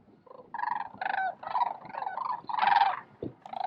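Thousands of sandhill cranes calling at once at Jasper-Pulaski, rolling, rattling trumpeting calls overlapping in a continuous chorus from a distance, with no talking.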